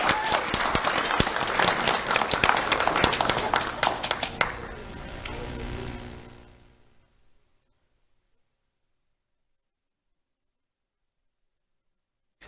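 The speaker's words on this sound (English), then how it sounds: "Let's have a round of applause for Willow Mills." An audience applauds an award recipient named Willow Mills at a ceremony, with loud dense clapping that fades away after about six seconds into near silence.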